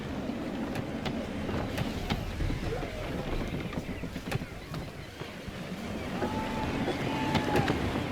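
Gusty wind rushes around a sailing ship in Assassin's Creed III, with creaking timbers and water washing past the hull, a steady noisy backdrop with swelling gusts.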